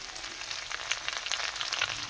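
Spices are fried in hot oil with already-fried onion for a snail curry in a village kitchen. A steady, dense sizzling crackle continues throughout, close and fairly even, with no speech.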